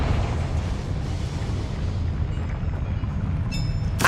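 A Confringo explosion spell in the game Hogwarts Legacy, a sustained rumbling blast with a dense low roar lasting several seconds, followed by a few bright chimes and a sharp burst at the end.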